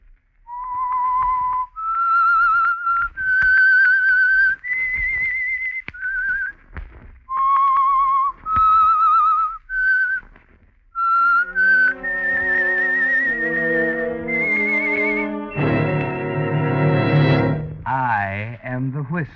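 Theme whistle of The Whistler radio mystery show, a clear solo melodic whistle in sustained notes, giving way to a swelling orchestral passage near the end.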